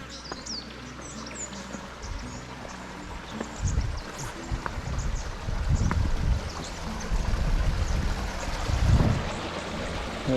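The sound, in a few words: creek water running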